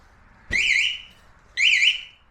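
Two short warbling electronic alarm chirps from a motorcycle, each about half a second long, separated by a brief pause. The chirps are fairly loud, with no talking.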